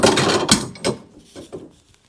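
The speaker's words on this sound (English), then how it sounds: "give it a little bit of snugging with the old crescent wrench here" A crescent wrench works against a stuck piston on a 2005 Harley-Davidson Road Glide, giving a few close, sharp metallic creaks and ratcheting clicks, loud at first and then trailing off into quieter scrapes.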